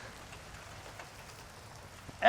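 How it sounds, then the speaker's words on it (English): Light rain falling outdoors, a soft, faint, steady patter with no talking. "Just a little bit of rain."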